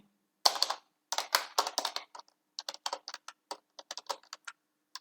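Computer keyboard typing code, a quick burst of close, crisp key clicks followed by sparser irregular taps in a quiet room.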